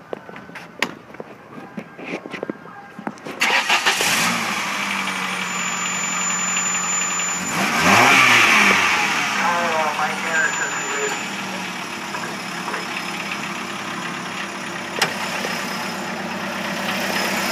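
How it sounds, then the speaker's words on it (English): A 1998 Ford Escort ZX2 four-cylinder engine with 103,000 miles cranks and starts after some clicking, then settles into a steady idle, close and moderately loud. "Lastly, I want to show you how the vehicle sounds."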